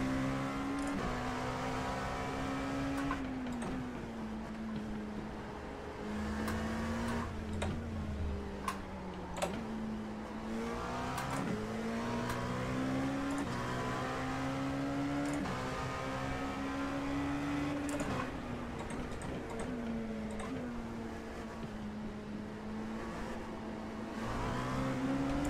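Engine of a Dallara P217 prototype race car in iRacing at the Nürburgring, a continuous droning note rising and falling with throttle and gear changes through the corners, with brief clicks and taps over it and no talk.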